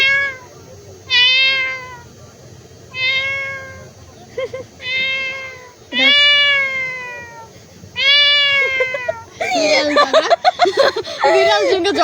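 A cat gives a string of five or six close, drawn-out meows with short pauses between them, ending in a rougher, noisy burst as if squabbling.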